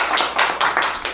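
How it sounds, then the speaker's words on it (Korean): A small audience at a Buddhist lecture claps in a short burst of distinct, fairly close handclaps, several quick claps in an uneven rhythm with no talk over them. "박수 한번 쳐줍시다."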